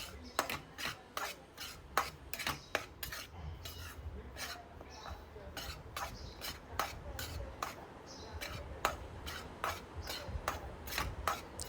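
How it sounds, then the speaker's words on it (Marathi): A green mung flour mixture roasting in ghee on a low flame, heard as repeated scraping and stirring of a spoon against the pan in an uneven rhythm, close and fairly quiet, with no talk. "छान मंद गॅसवर आपल्याला छान अशी खरपूस भाजून घ्यायची आहे पीठ."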